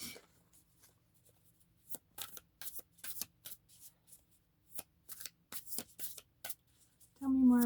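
Tarot cards being shuffled by hand during a reading, a run of soft irregular riffling bursts and flutters close by, ending with a short voiced sound at the end.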